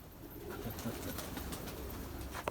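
Pigeons coo softly amid a busy background murmur, with low repeated calls blending into steady ambient noise over a couple of seconds.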